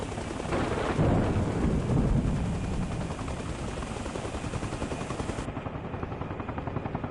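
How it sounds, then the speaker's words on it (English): Thunderstorm in the video game Arma Reforger, with heavy rumbling thunder and a dense wash of rain that swells loudly early on, then settles into a steady, continuous patter without speech. "Man, this is a flash storm."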